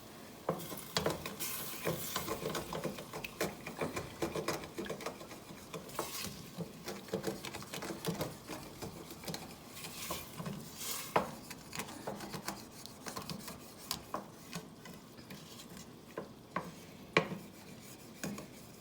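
A pan of beef stew is deglazed with red wine while a utensil scrapes the stuck bits off the bottom, bringing repeated scratching strokes over a steady bubbling sizzle, irregular and close.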